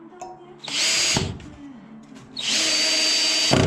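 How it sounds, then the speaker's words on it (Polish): Power screwdriver driving a screw into a suspended ceiling, two loud close bursts of whirring motor separated by a short pause, no talking. "I drugi wkręt."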